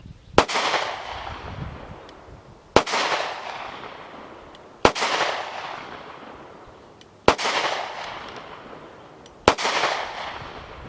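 A Smith & Wesson Model 6906 pistol fires five loud, sharp shots at even intervals of roughly two seconds. Each shot is followed by a long, fading outdoor echo.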